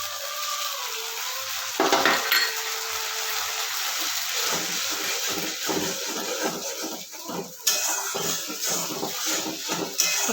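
Onion paste sautéing in a pan with oil, a continuous mid-level sizzle with a rhythmic series of scraping stirs and a few utensil knocks against the pan.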